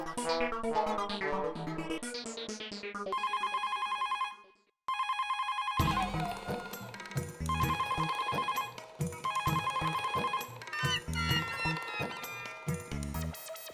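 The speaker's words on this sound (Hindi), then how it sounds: "ये दया फोन क्यों नहीं उठा रही है?" A phone rings repeatedly with an electronic ringtone over a musical melody, with a brief silent gap before the ringing resumes.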